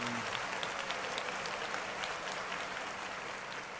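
Steady audience applause fills a talk-show studio after a guest rapper is introduced, a dense even wash of clapping that stays loud throughout with no voices over it.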